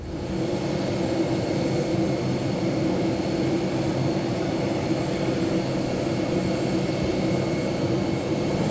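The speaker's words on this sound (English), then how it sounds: "we're here at the airport at Heathrow Royal Suite" Aircraft at Heathrow airport produce a steady, unbroken roar that holds at an even loudness for the whole stretch, with no pauses or distinct events.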